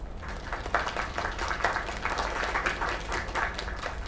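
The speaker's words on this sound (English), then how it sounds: "Another round of applause." A crowd applauds steadily throughout, dense clapping at a moderate level with no break.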